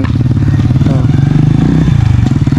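A motorcycle engine idles and revs loudly up close after a repair check-up, a steady throbbing pulse with rising revs and some clatter, voices faintly underneath.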